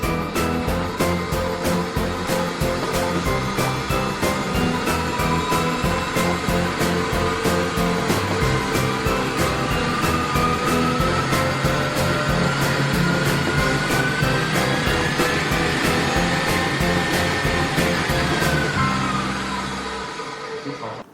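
A KitchenAid Pro 5Plus stand mixer runs at high speed with a steady, close mechanical whir and rapid rhythmic clatter, holding even before easing off at the end.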